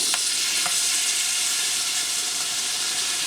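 Pork masala fry with kachampuli being stirred in a hot pan, a loud continuous hiss and sizzle with a few faint scraping strokes.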